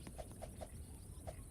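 In a video game, a horse's hooves gallop as four soft, irregular hoofbeats, faint and muffled over a quiet background hiss.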